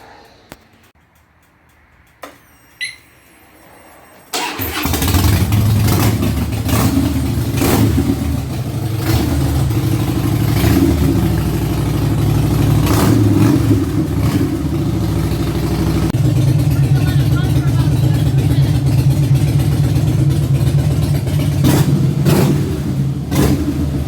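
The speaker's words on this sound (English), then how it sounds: "We're going to start by warming up the engine." After a few clicks and a starter crank, a 2009 Harley-Davidson FXSTC Softail motorcycle engine fires up and runs with a steady, throbbing rumble close by, revving slightly at times as it warms up.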